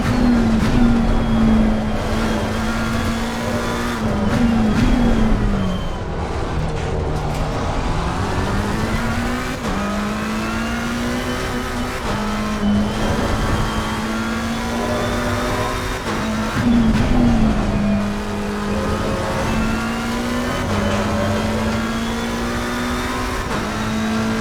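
Bentley race car in Assetto Corsa, flat out on the straights in a racing series, its loud engine note climbing in pitch through each gear then dropping at upshifts, repeated steadily with no talk over it.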